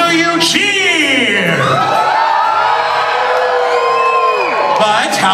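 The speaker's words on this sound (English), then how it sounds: "So, whenever you see your pirate, hear their name or hear their color, how will you cheer?" A crowd at a pirate-themed dinner show whoops, cheers and yells together, a loud and sustained roar with rising and falling shouted voices close around.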